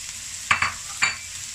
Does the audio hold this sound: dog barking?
no